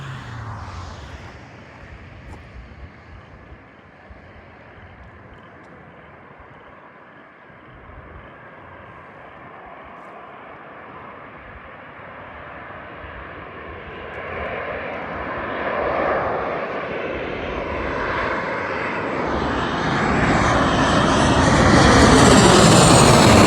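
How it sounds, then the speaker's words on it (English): A Virgin Australia Boeing 737-800 jet lands at Melbourne Airport, its engine roar building from a distant hum to a loud, close rush over about twenty seconds, with no voices. "That was Virgin Airlines 737-800 for you guys."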